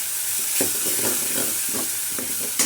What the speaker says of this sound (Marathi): त्याच्यामध्ये काजूची पेस्ट घालायची सर्व हे असं हलवून घ्यायचं